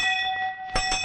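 A bell rung once, giving a steady, sustained metallic tone that rings on, with a soft second strike near the end, alone and close.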